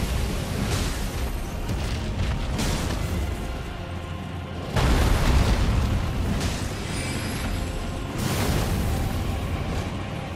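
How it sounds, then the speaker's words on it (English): A dragon's fire breath attack in Elden Ring: a sustained, loud roaring rush of flame with heavy low rumble, surging in waves across the clip and swelling strongest near the middle. "Fire breath."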